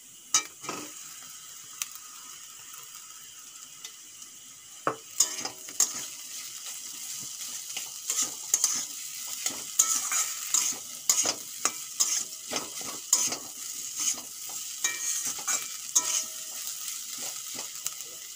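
Lightly fried onion and capsicum, joined by boiled potato, sizzle steadily in a pan while a spatula scrapes and knocks against the metal in frequent irregular strokes, growing busier after the first few seconds.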